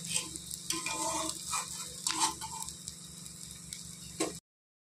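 Coconut fritters frying in oil, a soft, continuous sizzle with a few light clicks from the utensil, close but quiet. It stops abruptly near the end.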